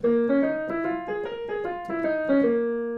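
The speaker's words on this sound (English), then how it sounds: "the more commonly used blues scale is actually a minor blues scale, and that sounds like this." A melodic instrument plays a minor blues scale, a run of distinct notes stepping up and then back down at an even pace, clear and alone.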